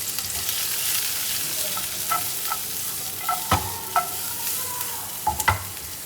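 Chicken tikka pieces, capsicum and onions frying in a pan, a constant hiss of sizzling oil with several scraping, knocking stirs of a utensil against the pan.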